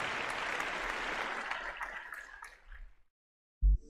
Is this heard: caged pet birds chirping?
no